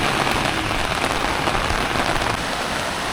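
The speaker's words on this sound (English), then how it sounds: "What a pouring rain." Heavy pouring rain in a severe storm at Puerto del Carmen, Lanzarote, a dense, steady roar of drops hitting surfaces that stays loud and unbroken throughout.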